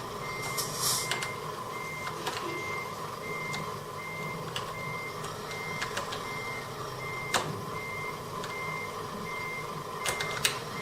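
Repeated electronic reversing beeps from a truck in the Euro Truck Simulator 2 video game, a steady rhythmic series of tones over an engine hum, with a few sharp clicks and no talk.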